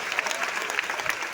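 An audience at a New Year church sermon claps enthusiastically, a short dense burst of many hands close together.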